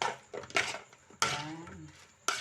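Chicken stirred in sauce in a pan, a utensil scraping and clinking against the metal in a few distinct bursts with pauses between, close up, one sharp ringing clank near the end.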